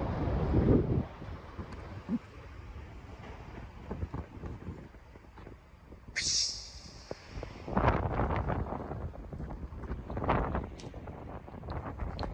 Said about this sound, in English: It's a windy out.